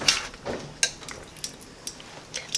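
A utensil clinks and scrapes against a cooking pot while a pot roast in juice and gravy is stirred and turned over, giving a few sharp metallic taps spaced irregularly over a quiet background, close and fairly loud, with no talking.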